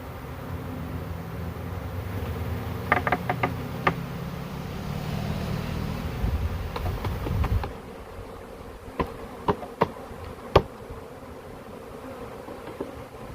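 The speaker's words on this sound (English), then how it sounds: "look at the amount of bees just on a lid" A honey bee swarm in Sturbridge, Massachusetts, fills the air with a dense, continuous buzz up close, thinning partway through into scattered individual bees zipping past with sharp clicks and bumps.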